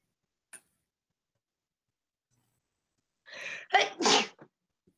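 A single sneeze, sharp and close, breaks a near-silent room, preceded by a short tick and followed by a quick exhale.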